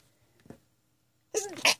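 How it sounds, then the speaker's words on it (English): A person sneezes: a faint sharp intake and breath, a pause, then a loud, close sneeze with a quick double burst at the end. "Sorry, I'm sneezing."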